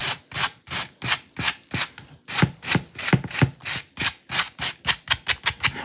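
A wooden frame is scratched and distressed by hand for a weathered, rustic look, making about twenty steady, evenly spaced rasping strokes, close and fairly loud, with one short pause partway through and no talking.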